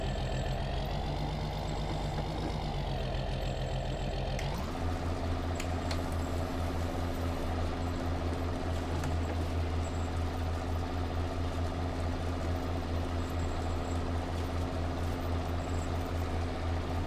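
Tractor engine in the Farming Simulator video game running steadily, a deep droning idle that shifts to a heavier, lower rumble after a few seconds, continuous and close with no talk.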